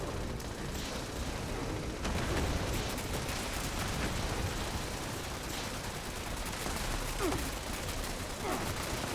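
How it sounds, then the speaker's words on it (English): Sustained gunfire from the video game Fallout 76, a dense, continuous clatter of rounds and blasts that fills the whole stretch at steady loudness, with no talk over it. "And the last set of rounds here."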